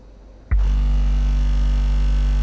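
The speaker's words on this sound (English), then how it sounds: "As you can see, we're going to do some sine wave sweeps here." A SCAR economy subwoofer in a kerfed port box plays a low sine-wave sweep, switching on abruptly into a loud, steady, deep droning tone with buzzy overtones that fills the rest of the moment.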